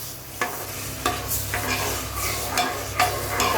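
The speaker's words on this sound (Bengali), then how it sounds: "ভালো করে চালটা নাড়াচাড়া করে নেব" Gobindobhog rice, washed and soaked beforehand, stirred in a pot over the heat with a soft sizzle, as a utensil scrapes and taps the pot every half second or so.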